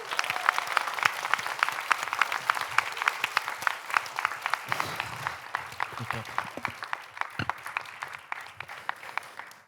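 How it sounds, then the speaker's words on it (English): An audience in a hall applauds a finalist at the Best Sommelier of Asia & Pacific contest, giving steady, moderately loud clapping for several seconds that gradually thins and fades, with a few stray louder claps. "Big applause"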